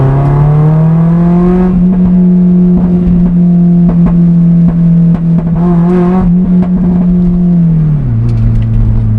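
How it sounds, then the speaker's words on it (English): A car with a newly fitted aftermarket exhaust idles and is held at raised revs, a loud, steady droning note close by that holds for about eight seconds before dropping back toward idle. "The exhaust was something I needed to do because it just didn't sound good enough to start, and now it sounds unbelievable."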